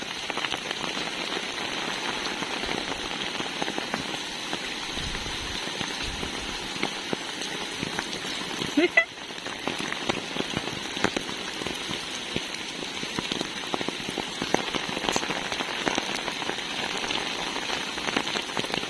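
Heavy rain pours steadily in Chennai, a dense, close hiss of drops drumming on surfaces, with one sharp crack midway through.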